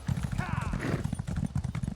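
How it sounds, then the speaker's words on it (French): Several horses gallop together in Elder Scrolls Online's Cyrodiil, their steady clip-clop hoofbeats pounding loud and continuous with a brief whinny, while players talk over the top. "on est tous chacun avec son cheval là, en train de galoper"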